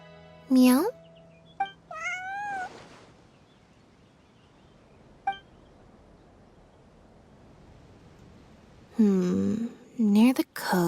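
A cat in the video game Genshin Impact gives several short, clear meows, loud and near, with a quiet stretch between them and voices around the calls.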